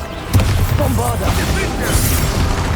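Bombarda blasting spell from the Hogwarts Legacy video game: a sharp blast followed by a dense rumbling, crackling explosion that sustains loudly for a couple of seconds.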